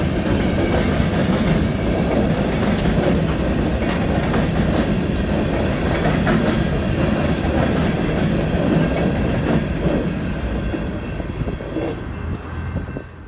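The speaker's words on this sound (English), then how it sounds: "we also see a westbound empty coal train passing through in the late morning hours" Westbound empty coal train passing through in late morning, a loud, steady rumble with continuous clickety-clack of wheels over rail joints, sustained for the whole pass and easing slightly toward the end.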